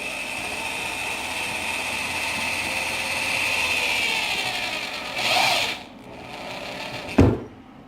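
A steady power drill whirs continuously for several seconds while drilling into a kayak, then winds down with a brief burst and a short sharp noise near the end.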